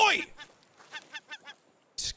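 Seagulls in the survival game Raft giving a loud squawk followed by a string of short, nasal honking calls and another harsh cry, close by and mostly alone.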